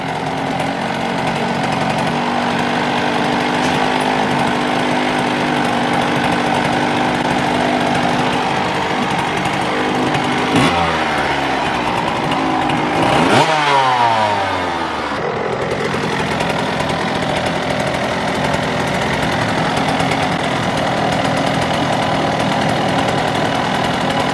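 A TC65 dirt bike engine cranks and fires, then settles into a loud, steady two-stroke idle with a brief rev sweep in the middle, close up and without talk.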